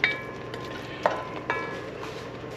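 Sofrito of celery and carrot cooking down in a pot, with a soft steady sizzle and a few sharp scrapes and clinks of the stirring spoon against the pot.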